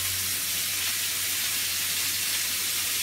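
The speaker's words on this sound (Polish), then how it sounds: "Kochani, mięsko się podsmaża" Pork ribs frying in a pan for a cabbage dish, giving a steady, loud, close sizzle with hiss that runs unbroken throughout, no voices.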